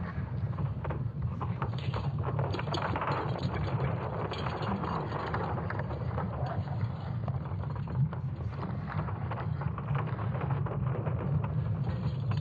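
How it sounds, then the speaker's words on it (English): Earth's magnetic field rendered as sound from ESA Swarm satellite data: a constant, rumbling, crackling low drone with creaking, wind-like texture, unbroken and fairly loud throughout. "It's actually the sound of Earth's very own magnetic field."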